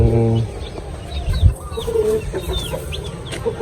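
Roosters and hens cluck in a small backyard chicken coop, with low throaty calls and a few higher cackles over a steady outdoor hum, close and fairly loud, and no clear speech.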